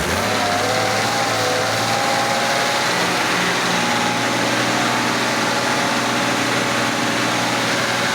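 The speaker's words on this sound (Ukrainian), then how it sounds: "Дивіться, даємо обороти." A motor pump engine on an irrigation pumping station runs loud and close and revs up, its droning tone shifting as the speed rises, then holding a steady roar.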